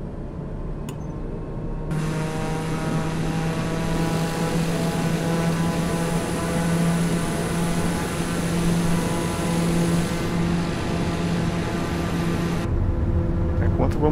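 Airplane engine in Microsoft Flight Simulator 2020 throttling up for takeoff on a flight over Jericoacoara, Ceará: a steady droning hum with rising harmonic tones that holds at a loud, even level throughout.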